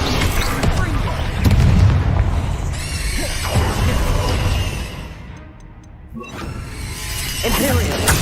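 Spell casts from the Hogwarts Legacy video game, a Leviosa levitation charm followed by a Depulso force push, sound as dense magical whooshes, booms and shimmering crackles in a busy game mix with a voice speaking over them.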